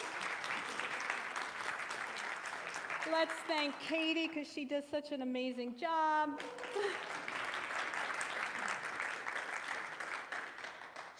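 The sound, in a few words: applause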